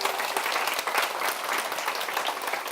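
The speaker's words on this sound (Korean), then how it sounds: "칭찬의 박수 한번 칠까요?" A church congregation applauding at a Sunday service, dense and steady clapping that holds at an even level throughout.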